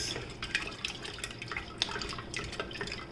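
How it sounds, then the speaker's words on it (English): Water is poured into a container of drink mix with sugar already added, making a faint, soft trickling and dripping with no voices. "So I'm just going to pour my water."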